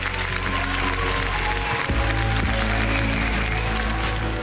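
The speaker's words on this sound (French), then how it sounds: "Le public applaudit, ce premier test grandeur nature semble positif." A theatre audience applauds a live stage performance of the musical Cléopâtre, a steady dense clapping that runs throughout under loud sustained music.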